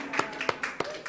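A church congregation gives a few scattered claps of welcome during a Sunday worship service, four or five sharp hand claps spread over a moment, fairly close, with a faint murmur beneath.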